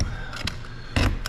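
Scissors snip through a thin metal template for the rod bearing grooves of a 1920 Nash 687 engine: two or three short, sharp cuts, close and fairly loud, with no talk.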